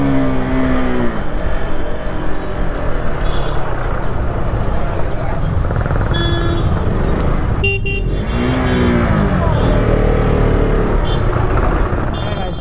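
A Yamaha R15 motorcycle accelerates and revs hard in a street drag race, its loud, steady engine roar mixed with other vehicles, a horn toot and shouting onlookers.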